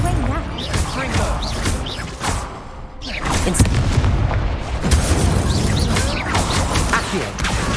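Confringo fire-spell blasts in the Hogwarts Legacy video game: dense, loud booming explosions and crackling impacts packed back to back across the whole stretch, one sharp burst standing out midway, with a voice over the top.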